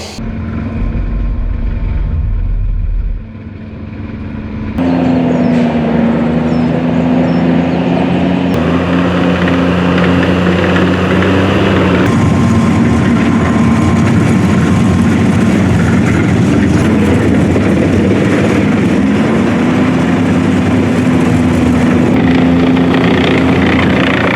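A heavy armoured military vehicle with a semi-automatic gearbox drives a large training circuit, its engine droning loud and continuous with a steady low rumble, shifting pitch slightly as it changes speed.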